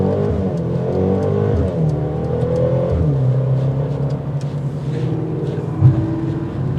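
A 2022 Mercedes-AMG GLB 35 pulls away hard from a stop, its engine note climbing steadily and loud from nearby, with no talk over it.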